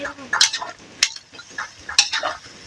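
Food being stirred and mixed in a pot outdoors, a few distinct scraping strokes and clinks of a utensil against the pot, spaced about a second apart, fairly close.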